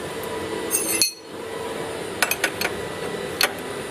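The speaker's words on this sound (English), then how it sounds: "We have to just put the plug in and tighten it up." A drain plug being threaded in and tightened on the gear case of a Yamaha Wolverine gives a few light, close metallic clinks and taps, spaced out over a steady low background.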